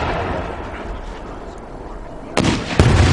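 Two firework bursts from 6-inch pink and silver peony shells, a sharp boom near the end followed by a second crack a moment later, loud and close over a steady outdoor rumble.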